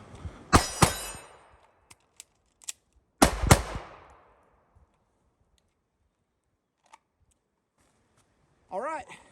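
Shots from a Shadow Systems MR920 pistol crack loudly outdoors. A quick pair is followed by two faint shots, then another sharp pair, with a quiet gap and brief speech at the end.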